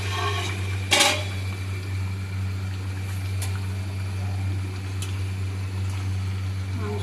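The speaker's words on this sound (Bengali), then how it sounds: "আমি এবার ঢাকাটা খুলছি, দেখি যে কেমন হয়েছে মাংসটা সিদ্ধ।" A lid is lifted off a pot of chicken curry with potatoes simmering on a gas stove. One short metallic clank comes near the start, over a steady low hum that lasts the whole clip.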